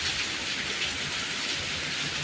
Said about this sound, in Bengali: দেখেন বাইরে প্রচুর বৃষ্টি।